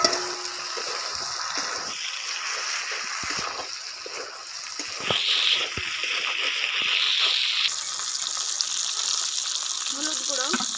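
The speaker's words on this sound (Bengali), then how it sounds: "এবার দিয়ে দেবো টমেটো কুচি" Chopped tomatoes sizzle and fry in a pan with oil, a steady close hiss throughout with occasional stirring scrapes and splatters.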